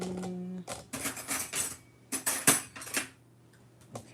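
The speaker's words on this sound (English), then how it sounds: "Let me grab a spoon." Metal cutlery clinks and rattles as a spoon is pulled from a utensil holder in a home kitchen during pizza making, a few sharp clatters with short pauses, close and moderately loud.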